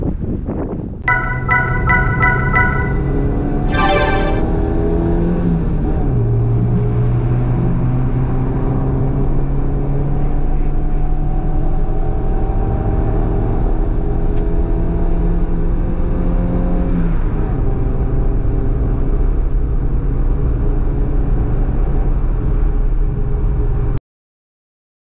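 A 1996 Renault Twingo 1.2 driving on the road, its small engine droning steadily from inside the car with rising and falling revs through gear changes, a few brief chimes at the start, then an abrupt cutoff near the end.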